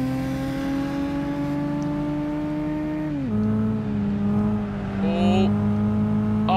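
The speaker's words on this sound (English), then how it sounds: "It does have an alright sounding engine though." A car engine in Gran Turismo 5 holds a steady buzzing tone, drops sharply as gears change, then revs again, with someone talking over it.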